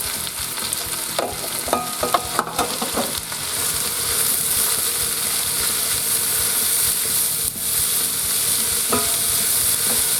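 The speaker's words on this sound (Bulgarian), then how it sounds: "в нагрятото олио слагаме пръза, лука и чесъна да се запържат" Leek, onion and garlic fry in heated oil, giving a steady close sizzle with scattered crackles and a few clinks of stirring early on, with no talk.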